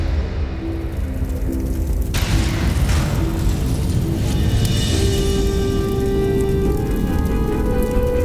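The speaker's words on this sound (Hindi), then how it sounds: "विस्फोट हो जाएगा अग्नि अस्त्रों में" Loud, continuous rumbling explosion and fire roar from a burning weapons store during the burning of Lanka in a Hindu mythological TV series, a heavy sustained blast with crackling bursts that swells and persists throughout.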